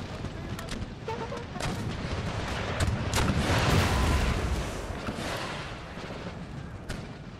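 Repeated booming blasts of cannon and artillery fire in the video game Empire: Total War, loud and overlapping, swelling in the middle, with a steady rumble and faint voices underneath.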